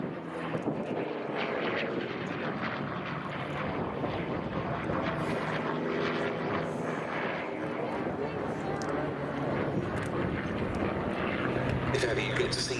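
A piston-engined fighter flies an air show display at Duxford, its engine a steady distant drone throughout, while a commentator talks over it continuously.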